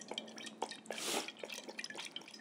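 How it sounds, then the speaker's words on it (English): Olive oil poured into a pestle and mortar, a faint wet trickle with small irregular drips and a short swishing pour in the middle, close and quiet. "I like to always add the oil into the pestle and mortar"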